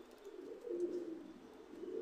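Faint, low cooing from a pair of Oman bloodline high-flying pigeons, a soft, throaty, wavering murmur that rises slightly in the middle, heard quietly with no talking.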